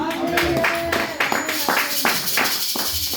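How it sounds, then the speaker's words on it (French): Applause for Christ during a French-language church service for children, with a group clapping in short bursts under talk and singing. "Allez, nous applaudissons pour Christ sa vie."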